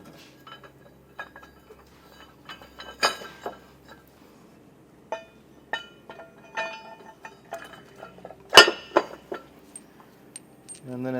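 Metal hardware for a rear anti-sway bar on a Tiffin motorhome, a flat washer and large U-bolt nuts, clinks and rattles in scattered bursts with one sharper clank, close and dry.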